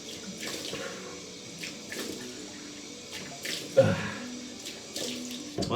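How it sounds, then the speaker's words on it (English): Tap water runs in a sink for a face rinse after a shave, a steady close splashing stream with small changes and a louder splash near the end. "Rinse with cold water."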